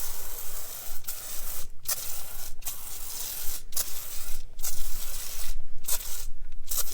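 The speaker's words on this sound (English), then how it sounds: "the pump sprayer delivers the foam" Pump sprayer hissing in bursts as it sprays foam onto a wheel, several sprays separated by short pauses, close and fairly loud with a wet, airy spray texture.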